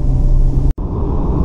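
A Toyota Etios XLS with a 1.5 engine and four-speed automatic cruises on a highway, its cabin filled with a loud, steady low road and engine rumble that cuts out for an instant before resuming.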